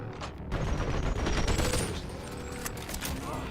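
Rapid bursts of gunfire from dual-wielded guns in the VR game Boneworks, loud and close, rattling in a dense volley that trails off with echoing shots.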